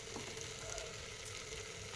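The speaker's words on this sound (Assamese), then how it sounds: "ল' ফ্লেমত ধুনীয়াকৈ ভাজি থাকিব লাগিব" Pineapple pulao rice fries on a low flame with a soft, steady, quiet sizzle that runs evenly throughout, with no talk.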